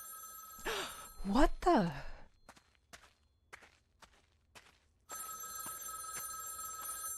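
Payphone in a horror video game, preceded by a startled voice and a few footsteps, then a loud electronic trilling ring starting abruptly and continuing steadily.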